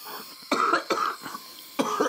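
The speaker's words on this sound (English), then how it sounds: "How long have you been coughing for?" A patient in an ambulance coughs three times in short, rough, close bursts with a throaty edge.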